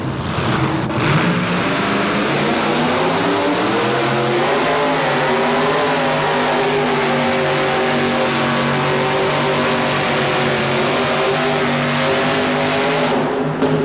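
A pulling truck's engine revs hard at a 1987 truck and tractor pull in Huntsville, a loud, steady, high-revving roar that holds without a break from start to finish.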